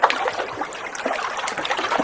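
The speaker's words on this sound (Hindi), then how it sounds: "मुझे यहां पानी के वाटर लैपिंग मतलब पानी के कलकल की आवाज" Flowing water laps and trickles close by with a steady, bubbling murmur throughout, with no talk over it.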